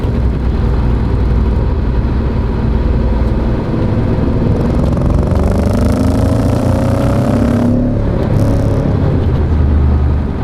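An Audi B7 RS4 engine pulls hard from inside the car, its loud, rising roar climbing steadily before a sharp break at the gear shift, then resuming under load as the car drives past an overpass.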